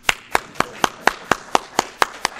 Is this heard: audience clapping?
yes